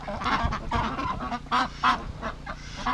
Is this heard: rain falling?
no